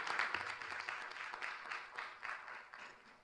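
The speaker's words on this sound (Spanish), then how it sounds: "Esos aplausos son muy justificados" Faint, steady applause rises from the audience at a Chilean media forum, many hands clapping together in a continuous wash heard from a distance.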